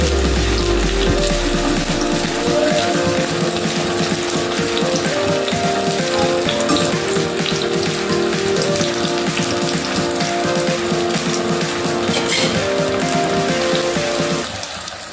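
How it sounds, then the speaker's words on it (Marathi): Onion frying in hot oil for a homemade chicken biryani, a dense continuous sizzle and crackle up close that stays loud and steady, then cuts off near the end, with no talking. "कांदा चांगला फ्राय करून घ्यायचा आहे"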